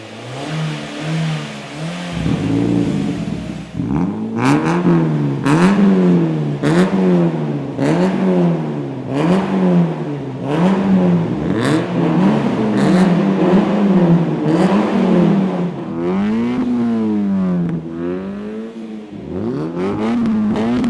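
A Mazda MX-5 Miata race car engine revs hard and repeatedly through an aftermarket exhaust, its loud exhaust note rising and falling in rapid bursts, close up with no talking.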